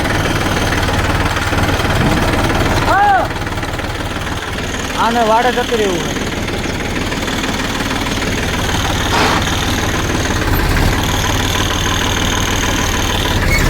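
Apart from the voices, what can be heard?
tractor engine started and idling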